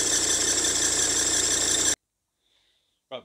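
Ford 2.0 TDCi diesel engine running with a noisy drive belt, a loud steady mechanical drone for about two seconds that cuts off abruptly into silence, followed by a brief faint knock.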